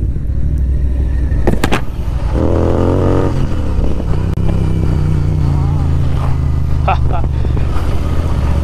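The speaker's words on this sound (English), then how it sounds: "that's popping sound is literally amazing," A Royal Enfield Interceptor 650 motorcycle fitted with an aftermarket silencer rumbles loudly on a cold ride, its exhaust note throbbing with a few sharp pops, while a rider talks over it.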